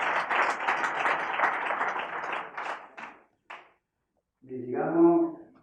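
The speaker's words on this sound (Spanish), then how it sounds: "Le aplaudimos a Guillermo Rovirosa" Audience applause follows a speaker's introduction at a Spanish church talk, a dense burst of clapping that thins and fades out, then a voice begins after a short silence.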